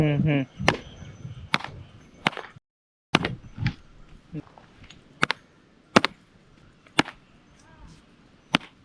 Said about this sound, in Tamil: இப்போ நம்ம இந்த கல்லுல தட்டலாம்